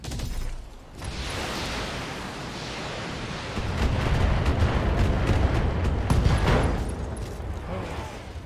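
Heavy mechs fire their weapons during a BattleTech battle, a dense, loud rumble of booming blasts and crackling impacts that builds and swells over several seconds.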